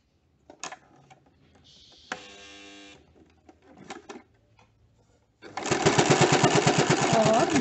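A domestic sewing machine back-stitching fabric for a mask, a short buzzing run followed by handling clicks, then a loud steady rapid stitching drone close by.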